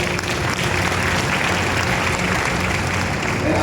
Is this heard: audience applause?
yes